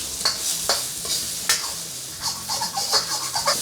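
Thinly sliced chicken stir-frying in a pan, a steady bright sizzle with repeated scraping clicks from a spatula stirring the meat, close and continuous with no voices.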